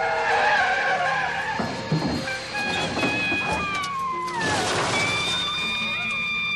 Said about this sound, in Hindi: दोनों गाड़ियों की जोरदार टक्कर हो गई।